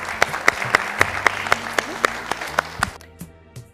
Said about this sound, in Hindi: बहुत बहुत जोरदार तालियां।